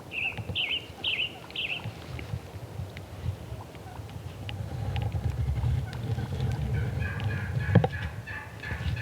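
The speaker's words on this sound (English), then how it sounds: "We walked right under that whole flock of turkeys." A flock of wild Merriam's turkeys gobbles in a burst of repeated calls at the start, then chirps and clucks quietly under a constant outdoor background.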